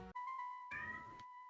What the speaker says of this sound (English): Oh, I heard a meow.